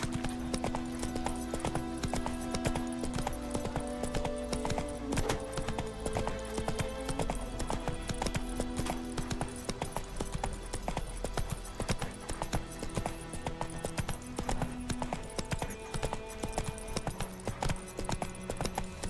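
A horse gallops in The Witcher 3 video game, its hooves clip-clopping in a fast, continuous rhythm close up over a dense game soundtrack for the whole stretch.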